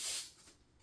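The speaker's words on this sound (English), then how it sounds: "I'm using the Pan Baking with Flour spray." Baking spray with flour released from an aerosol can into a cake pan: a single strong, bright hiss lasting about a quarter second that then tails off into a fainter spray.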